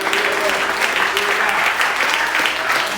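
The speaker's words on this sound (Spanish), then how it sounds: "Denle un aplauso fuerte al Señor." A church congregation claps loudly and continuously, a dense wash of applause with voices mixed in.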